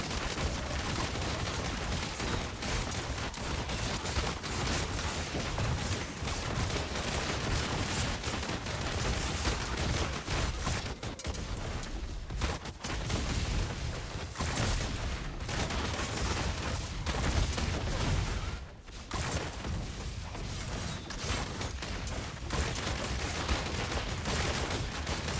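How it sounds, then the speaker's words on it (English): Rapid, dense bursts of gunfire-like attack effects from demon hunter strafe skills in the video game Diablo Immortal form a continuous, loud barrage of overlapping shots with only brief dips. "I'm hearing a lot of strafe action going on here."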